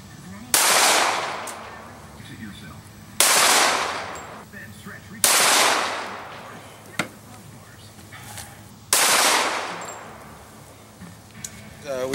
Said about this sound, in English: We just wrapped up shooting the Hornady Critical Duty.